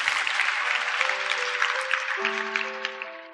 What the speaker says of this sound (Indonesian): Ya kasih tepuk tangan dong untuk Tuhan Yesus.